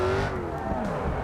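A race car in a driving game slides sideways and spins out, its engine note whining and falling under a scrubbing tire skid, loud and close for just over a second.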